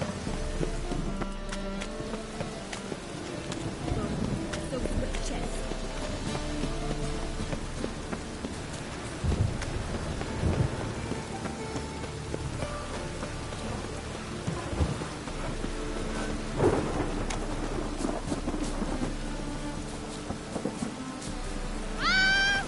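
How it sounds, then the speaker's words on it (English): Rain falls steadily as a thunderstorm builds, with low rumbles of thunder rolling under a constant wash of rainfall throughout. "Rain was coming."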